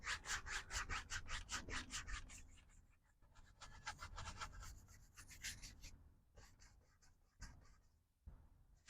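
A brush scrubs blue paint onto a wood surface in a cabin scene, giving close, rhythmic rasping strokes that come fast and steady at first, then turn slower and more irregular with brief pauses.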